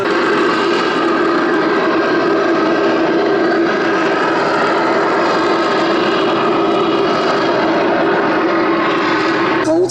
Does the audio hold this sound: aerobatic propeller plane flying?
yes